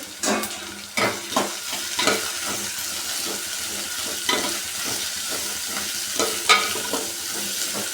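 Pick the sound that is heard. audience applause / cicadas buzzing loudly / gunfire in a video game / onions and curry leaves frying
onions and curry leaves frying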